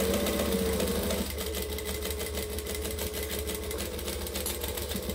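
A sewing machine backstitches through a fabric bag, its motor whirring steadily and close throughout, with a brief shift in pitch after the first second as the stitching reverses.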